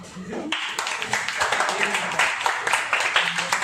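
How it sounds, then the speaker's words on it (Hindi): Students in a physics class clapping together, a rapid, continuous patter of claps running throughout, fairly close and moderately loud. "एक बार वापस ताली बजाओ"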